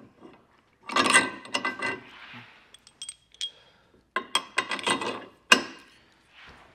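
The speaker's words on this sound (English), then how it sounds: "we'll just slide this up, run our bolts through." Bolts sliding through a Stealth Hitches hidden rack receiver kit under a 2015 Mercedes produce bursts of close metallic clinks and ratcheting rattles, with two busy clusters separated by short pauses.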